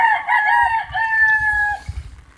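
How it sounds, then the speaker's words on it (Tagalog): A single drawn-out rooster crow rises over low rumbling background noise, close and clear, from flooded chickens. "Lubog na yung manok."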